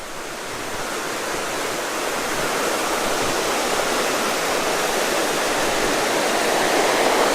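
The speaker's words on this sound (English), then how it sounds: "Pretty good flow from a spring right there, I'd say. That thing's flowing some water." Steady, close rush of spring water pouring from a bluff at Big Springs State Park, a continuous broadband splashing roar that holds constant throughout with no voices.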